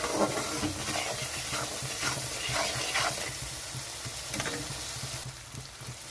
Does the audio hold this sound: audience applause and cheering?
no